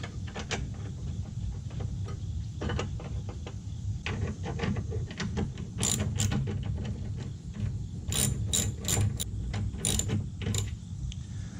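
A socket ratchet tightens an 8mm bracket bolt on a 2018 Mustang GT, giving close, repeated clicking strokes in irregular bursts over a low background hum.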